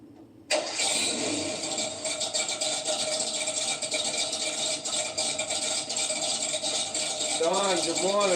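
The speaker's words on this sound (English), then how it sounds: "44 Magnum tractor." A 44 Magnum tractor engine cranks and catches abruptly, then settles into a loud, steady, rattling idle close by, with a rising whistle-like tone appearing near the end.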